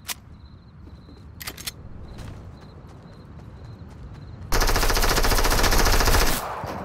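Rapid automatic gunfire in the Fortnite video game, a sustained burst of close, loud shots lasting about two seconds after quieter game sounds and a few earlier isolated pops.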